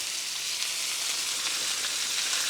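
Chicken chorizo meat sizzling loudly and steadily in a hot pan as it is stirred, a continuous bright hiss with faint scraping throughout and no talk.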